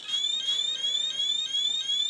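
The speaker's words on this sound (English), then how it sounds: "that's just setting the alarm off now because it's slightly over the threshold for it" The alarm on a Radiacode 102 radiation detector sounds close and loud: a continuous electronic beeping tone that pulses rapidly and steadily without a break.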